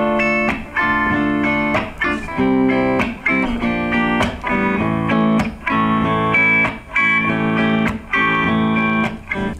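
Guitar plays the verse of a song with a strumming pattern: steady chords punctuated by sharp muted chops in a repeating rhythm, close and full with no speech.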